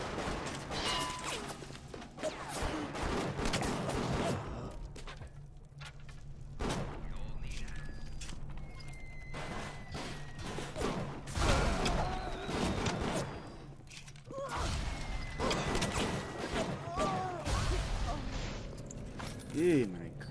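Gunfire in the video game Bioshock, scattered shots, bangs and crashes at irregular intervals, some loud and close, with someone talking between them.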